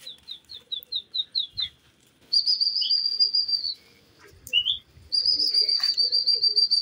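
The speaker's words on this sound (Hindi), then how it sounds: "ये देखिए जी दोबारा उड़ाया जी कबूतर माशाल्लाह से जी।" Pigeons on a farm in Multan call with a rapid run of high chirps, followed by longer sustained whistling tones and scattered soft rustles, close and clear with no voices.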